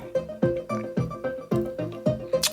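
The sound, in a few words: looped bass drum from modular synth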